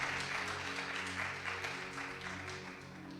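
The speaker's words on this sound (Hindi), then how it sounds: "जोरदार तालियां खुदा के जलाल के लिए।" A church congregation claps together after a Sunday sermon, a dense burst of applause that fades slightly over a few seconds.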